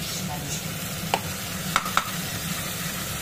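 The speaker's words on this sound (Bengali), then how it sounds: "আদা রসুনের পেস্টটা করা ছিল সেটা আমি দিয়ে দিলাম" Ginger garlic paste dropped into hot oil, a continuous close sizzle with stirring, broken by three short sharp clinks of a spoon against the pan.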